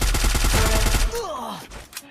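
Gunfire in the Free Fire battle royale game: a rapid burst of repeated shots rings out for about a second, followed by whooshing, descending effects and a couple of fainter trailing bangs.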